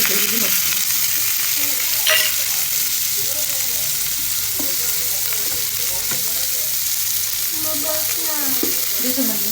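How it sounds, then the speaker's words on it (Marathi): Soaked fish fried in a pan gives a loud, continuous sizzle, with scattered clicks and scrapes of stirring and no speech over it. "मला मी चांगलं परतून घेणार कारण की भिजवलेली मच्छी आहे"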